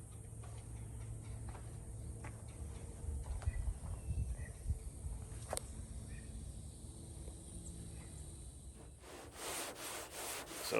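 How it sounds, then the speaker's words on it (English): Primer on the body of a Chevrolet Caprice is hand-sanded with 150-grit sandpaper, giving quiet, rhythmic scraping and rubbing strokes that repeat in a steady back-and-forth pattern. "we're just going to sand primer, we're just going to stick with hitting it with 150."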